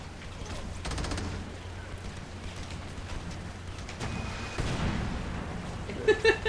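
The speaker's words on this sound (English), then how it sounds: "There's some accurate rockets." Rocket and gunfire explosions in the video game Crackdown, a steady crackle of distant shots and blasts with a sharper burst near the end, under faint game ambience.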